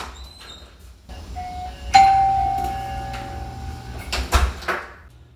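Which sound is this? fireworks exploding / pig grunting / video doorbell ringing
video doorbell ringing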